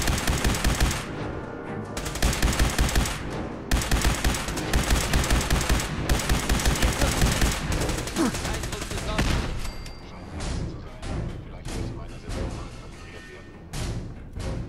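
Rapid bursts of automatic gunfire and single shots from weapons being tested in the video game Fallout 4, loud and dense for about ten seconds, then thinning into scattered, spaced shots.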